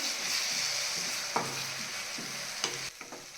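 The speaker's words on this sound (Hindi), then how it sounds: "इसको लगभग 20 से 30 सेकंड के लिए इसको लगातार चलाना है ताकि दही फटे नहीं।" A spoon keeps stirring a yogurt-based kachri chutney in a hot pan over a low, steady sizzle, with several distinct scrapes and knocks against the pan. No one speaks.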